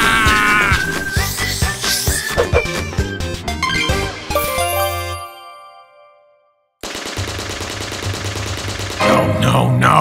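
A gun fires in Poppy Playtime in rapid, loud bursts mixed with music and chiming tones, then cuts to near silence before dense firing and effects resume.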